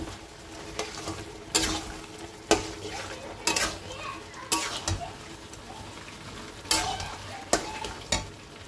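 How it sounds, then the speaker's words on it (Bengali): Chicken sautéed with spices in a pan, a low continuous sizzle punctuated by sharp, irregular clanks and scrapes of a spoon against the metal, heard up close with no talking. "চিকেনটা ভালো করে কষিয়ে নিচ্ছি, এখনো হয়নি কষানো।"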